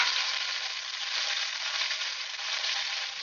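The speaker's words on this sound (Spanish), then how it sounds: "Dejamos que dore bien la carne" Beef for a pot roast browns in a pot with a continuous, even, hissing sizzle that stays close and steady from start to finish.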